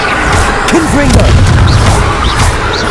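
A booming fire blast from the Confringo spell in the video game Hogwarts Legacy, a loud deep rumble with crackling bursts, mixed with game voices and effects.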